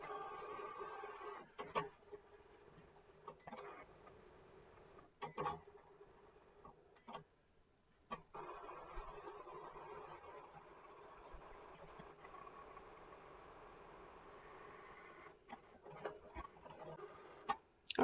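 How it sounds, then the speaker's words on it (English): A Cricut machine scores and cuts cardstock with a fine point blade and scoring stylus, giving a faint, steady mechanical whirring broken by periodic clicks and carriage shifts, heard alone and fairly quiet. "So I'm going to press go on the Cricut."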